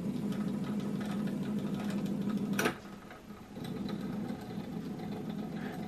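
A BSR GU4 turntable runs with a low, steady rumble and faint mechanical ticking, broken by a brief click and a short drop in level before the quiet whir resumes.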